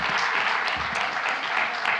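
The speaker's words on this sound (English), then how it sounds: "Big hand for all of you staying to the end of the day" An audience at a women-in-science symposium closing session applauds steadily, a dense, even wash of many hands clapping, fairly loud and sustained with no pause.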